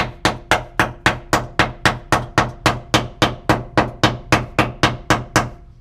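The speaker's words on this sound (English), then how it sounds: "I'm gonna hammer on it a little bit." A hammer strikes the rusty floor board sheet metal of a Foxbody Ford Mustang notchback in about eighteen evenly spaced, loud, ringing blows, each one decaying before the next, with no talk.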